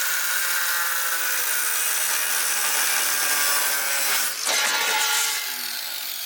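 A small power tool grinds a slot into the head of a stripped Phillips screw, a steady high whining buzz held for several seconds with a brief dip in the middle.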